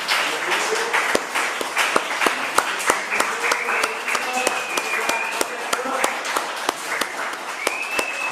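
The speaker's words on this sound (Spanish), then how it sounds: "Démosle una ofrenda de palmas al Señor." A church congregation claps their hands as an offering of praise, with sharp individual claps standing out over a softer crowd wash while voices call out and talk throughout.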